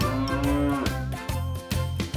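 A cow moos repeatedly, loud and close, in a short run of drawn-out lowing calls, heard alone with no talk as a farm animal sound effect in a children's barn setting.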